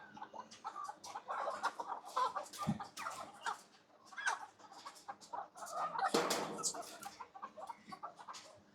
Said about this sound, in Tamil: இந்த கோழி எப்படிதான் வச்சிருக்காங்க பாருங்க.